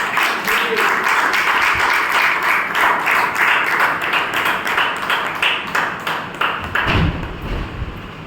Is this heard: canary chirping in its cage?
no